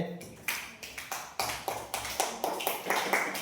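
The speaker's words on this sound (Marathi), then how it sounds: "टाळ्या वाजवा रे" Schoolchildren in a classroom clap in quick, loud, roughly rhythmic bursts that build into steady group applause, with a brief spoken word near the start.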